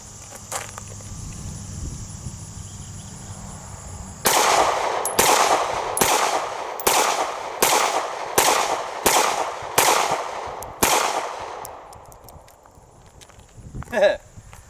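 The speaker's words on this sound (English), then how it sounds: "it's kind of curious to see if this gun will eat them all" An H&K VP9 pistol fires mixed ammunition outdoors, ten sharp loud shots in a fairly steady rhythm with brief gaps between them, after quieter ambient sound and some handling noise.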